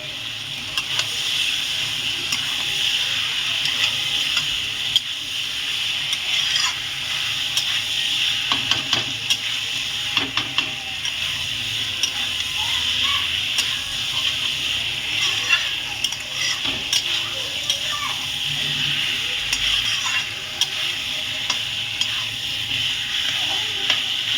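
Country chicken meat hits hot spice masala in a pan with a steady, close sizzle, stirred continuously with soft scraping as the frying crackle runs throughout.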